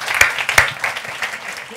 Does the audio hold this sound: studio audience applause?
yes